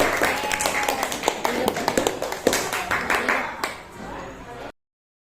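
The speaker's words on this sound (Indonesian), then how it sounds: "Tepuk tangan dulu untuk kelompok kita." Students in an elementary classroom clap for their group, a burst of brisk, uneven hand claps that fades out, mixed with voices.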